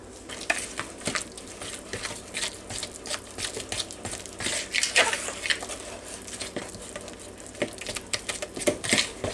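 Egg being beaten into banana muffin batter, a steady run of soft clicking, tapping strokes against a bowl with a wet stirring texture throughout, close up, with no talking.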